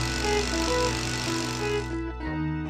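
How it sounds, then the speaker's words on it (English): A drill boring a mounting dowel hole for a core drill rig, giving a steady loud motor whine with a rattling grind, then cutting off abruptly near the end as the tone drops. "Drilling a mounting dowel hole."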